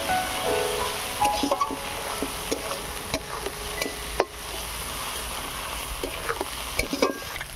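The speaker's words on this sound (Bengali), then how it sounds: "পেঁয়াজ আদা রসুনটাকে একটু ভালো করে ভেজে নেব।" Onion, ginger and garlic with slit green chilies fry in a pan for hilsa biryani, giving a quiet continuous sizzle broken by stirring scrapes and sharp utensil clinks against the pan.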